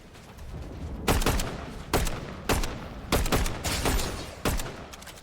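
Gunfire in a video game cracks out in a string of sharp shots, several of them rapid doubles, spread across a few seconds at moderate distance.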